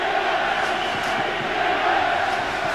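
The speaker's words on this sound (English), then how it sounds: "And the crowd immediately getting into it." A football stadium crowd for a Scottish Claymores game in Frankfurt roars steadily, a broad, sustained wall of cheering and shouting from the stands, loud but distant and even throughout.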